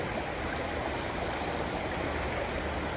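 A Pennsylvania creek stocked with trout flows steadily at seven in the morning, its broad rushing wash loud and constant throughout, with no voices.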